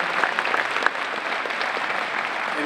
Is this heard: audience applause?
yes